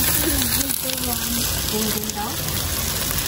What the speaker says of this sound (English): Just cooking up some tatties here for the evening.